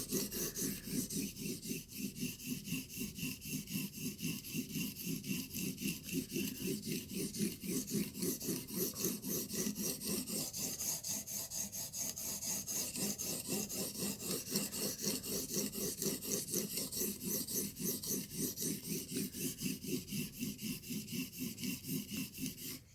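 A metal blade edge is sharpened on an abrasive to raise a burr, giving a steady, rhythmic rasping as it is stroked back and forth, close and continuous throughout.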